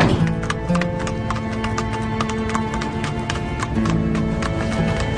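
A two-year-old trotting colt, a horse only three weeks into training, moves with quick repeated hoofbeats, clip-clopping steadily and close throughout, with a whinny near the start.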